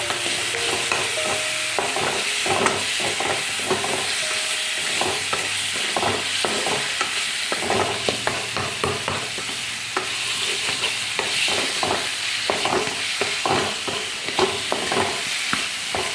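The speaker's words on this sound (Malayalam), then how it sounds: "മുളകും പൊടി ഇട്ട് കൊടുത്തതിന് നമ്മൾ ഇളക്കി കൊടുക്കുക" Chilli powder is stirred into jaggery melting in a pan, giving a close, continuous sizzle cut by quick, regular scraping strokes that run without pause throughout.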